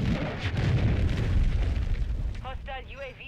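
A missile explosion in a video game, a loud rumbling blast that swells and decays, with a voice talking briefly near the end.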